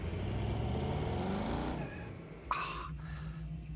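Car engine in the Wreckfest 2 racing game, a loud sustained engine roar that drops away and then gives a brief sharp rev, with no talk over it.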